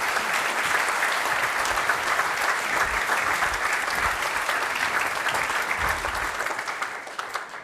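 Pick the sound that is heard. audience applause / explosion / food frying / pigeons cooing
audience applause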